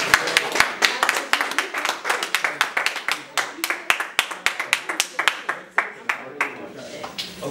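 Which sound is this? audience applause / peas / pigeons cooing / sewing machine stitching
audience applause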